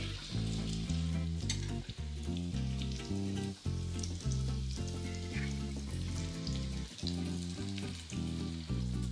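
Banana flower fritters (vadai) deep-fry in peanut oil, a loud, continuous bubbling sizzle close by, with no one talking, over an intermittent low rhythmic hum from kitchen machinery.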